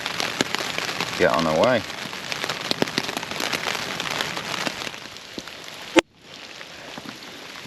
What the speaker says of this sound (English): The rain is just consistently howling down.